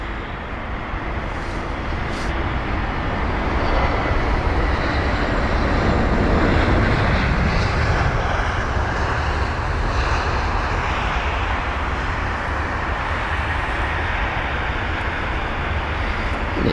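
An Air Canada airliner taxis at London Heathrow, its jet engines a loud, steady roar that swells slightly in the middle as it passes by and then holds level to the end.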